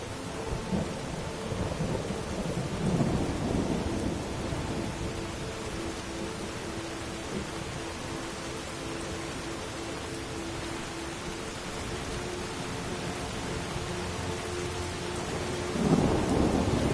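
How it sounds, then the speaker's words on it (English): Steady rain and rolling thunder in Skyrim's open world, a continuous wash of rainfall with low rumbles swelling near the start and again at the end. "Sounds like it's gonna rain."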